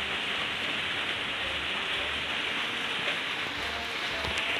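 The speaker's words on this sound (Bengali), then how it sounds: "প্রচণ্ড বৃষ্টি হচ্ছে" Heavy rain pours steadily during a monsoon downpour, a dense continuous hiss of drops on surfaces, close and even throughout with no voices.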